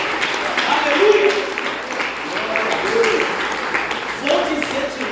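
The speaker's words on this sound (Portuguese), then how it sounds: "essas palmas aí foram para mim" A church congregation claps and applauds during a sermon, a broad wash of hand claps rising and falling, with voices mixed in underneath.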